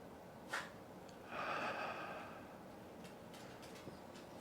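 Quiet, close breathing while holding a fish pose in a shoulder and arm yoga session: a short sharp inhale, then a longer airy exhale over faint background hiss.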